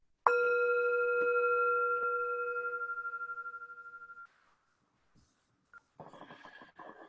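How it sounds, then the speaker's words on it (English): A single bell is struck once, a bright clear tone that rings out and slowly decays over about four seconds in an otherwise quiet room, followed by a few faint clicks and a brief murmur of a voice. "I'm going to ring the bell"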